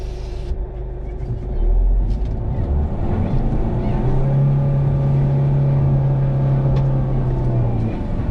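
A Hyundai Creta car pulls away and accelerates on the road to Haridwar, its engine rising into a steady loud drone with a sustained tone. Indistinct voices sit faintly under the engine.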